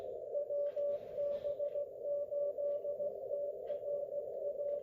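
A faint steady tone sits in the hiss of a shortwave receiver fed by a DX Engineering DXE-RF-PRO-1B magnetic loop receive antenna, a weak carrier held just above a quiet noise floor with soft fluttering static around it.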